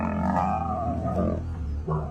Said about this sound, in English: We heard what it sounds like for a male lion to scream